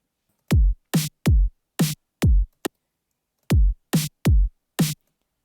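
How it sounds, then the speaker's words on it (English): Stock FL Studio drums, a basic snare and Groove Kick 1, play alone in a sparse pattern: two short phrases of punchy, dry hits separated by a brief gap, loud and close against total silence. "This is snare basic, and this is groove kick 1."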